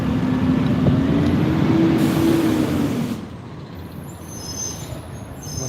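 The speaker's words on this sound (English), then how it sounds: "Behind this stinky garbage truck." A garbage truck's air brakes hiss nearby, a loud rushing release that lasts about three seconds and then drops into quieter street rumble.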